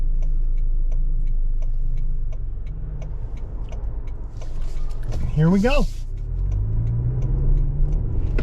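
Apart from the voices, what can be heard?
2024 Toyota Grand Highlander accelerating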